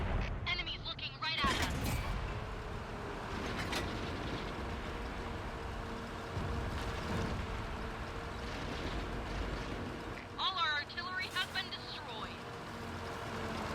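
Gunfire and explosions from a World of Tanks console battle with a mercenary heavy tank, heard as repeated booms and impacts under steady rumbling noise. Someone talks over much of it.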